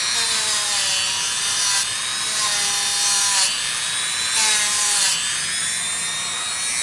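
A Dremel rotary tool cuts into the cabinet of a Delmonico FMS-749 AM-FM tabletop radio. A close, shrill grinding whine comes in three or four repeated passes with short pauses between them, and no talking.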